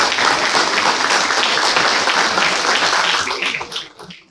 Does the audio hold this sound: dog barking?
no